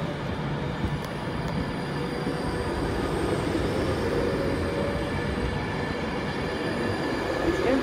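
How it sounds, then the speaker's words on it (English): A Virgin train pulls out of Milton Keynes Central station, its steady rumble and faint wheel squeal filling the platform, loud and continuous throughout with no voices over it. "Virgin trains now departing for London Euston only"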